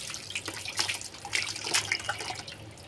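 Water pours and splashes in uneven bursts while a child is bathed, close and fairly soft, with dripping between the splashes and no speech.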